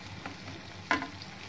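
Jalebi coils of homemade kesari batter frying in hot oil, a soft steady sizzle with one brief louder crackle burst midway, close and alone with no talk.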